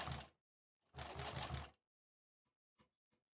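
Sewing machine stitching quilt rows in the quilt-as-you-go method: a short burst of rapid needle whirring, a pause, then a longer run of pulsing stitches, followed by a few faint clicks.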